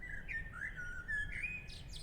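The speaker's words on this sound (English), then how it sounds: "Birds." Chirpy bird calls from the Undertale video game, a few bright whistled tweets over a low ambient hum, fairly faint and steady with no voices.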